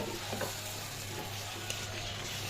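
Spice powder is stirred into a chicken roast in a pan, with a soft, continuous sizzle and faint spoon movements, fairly quiet and without talk.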